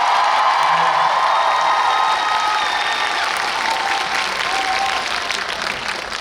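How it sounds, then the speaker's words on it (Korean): Sustained audience applause for ballet dancers at a live Stage Fighter concert in Gwangju, a dense steady clapping of a large crowd that holds loud for the whole stretch, fading only slightly toward the end. "발레 무용수를 위해 박수 한번 쳐줍시다"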